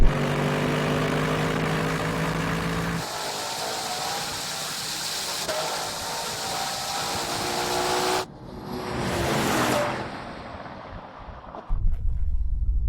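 A Ferrari Purosangue launches in a drag race against other performance SUVs, a loud engine roar with rising tones that gives way to a broad rushing blast before cutting off.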